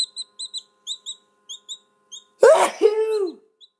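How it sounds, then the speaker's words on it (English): A loud, close sneeze bursts out suddenly on a farm after a stretch of quiet with repeated bird chirps in the background. "I gotta sneeze."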